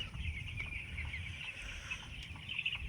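Chicks about 15 days old, farmed birds raised on sand, cheep and cluck steadily in a continuous close flock chatter over low background rumble.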